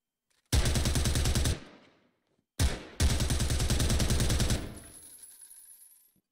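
Automatic gunfire in Rainbow Six Siege during a competitive esports match: two loud, close sustained bursts of rapid shots, the first about a second long, the second longer after a brief stutter, each with a fading echo tail.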